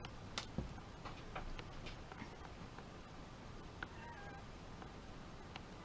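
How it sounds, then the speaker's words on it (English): A cat meows faintly from the other side of a door, a few soft, brief cries against a quiet background with light ticking. "my cat is meowing outside my door."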